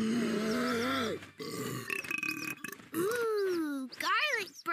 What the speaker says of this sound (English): Ooh, garlic burp.